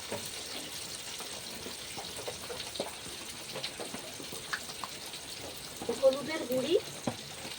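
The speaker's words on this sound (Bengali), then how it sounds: "এরপর আমি ভালো করে মশলাটা কষিয়ে নেব" Spices with chili powder, salt and sugar fry and get stirred in a pan, a continuous soft sizzle with light scraping strokes, growing a little busier toward the end, and no talking.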